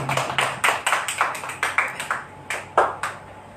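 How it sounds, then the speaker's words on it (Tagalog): Congregation at a Sunday church worship service clapping for the Lord, a run of sharp, fairly close claps in an uneven rhythm with no talk. "Palakpakan natin ang Panginoon dyan."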